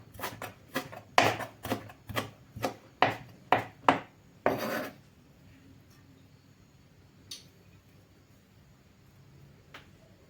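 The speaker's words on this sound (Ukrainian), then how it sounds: "Ще в салат нарізаю кріпа петрушка" About ten quick knife chops through dill and parsley on a board in a steady rhythm, close and fairly loud, then near silence with a couple of faint taps.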